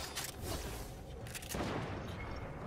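Sniper rifle shots in Fortnite crack out as a few sharp reports with booming tails over a low background rumble, moderately loud, no voices over them.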